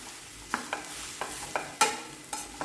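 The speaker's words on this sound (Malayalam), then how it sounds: "നന്നായിട്ട് മിക്സ് ചെയ്ത് കൊടുക്കാം" Sweet potato and ragi stirred together in a pan, with a spoon scraping in a series of short, close strokes over a soft, steady background hiss.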